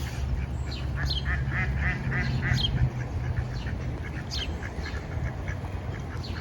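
Several ducks quacking nearby in short bursts and scattered calls, with a steady low background hum running underneath.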